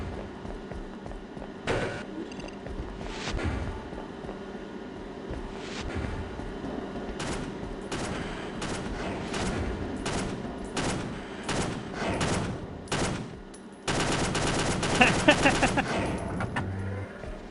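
Rapid gunfire crackles in Half-Life: Caged, with scattered sharp shots through the first stretch followed by a dense, sustained volley near the end, all over a steady background hum.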